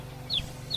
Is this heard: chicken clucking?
yes